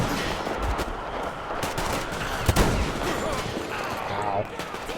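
Gunshots are fired in the Metro Exodus video game. Several sharp reports stand out, with one louder crack at the midpoint, set amid dense game ambience and some voice.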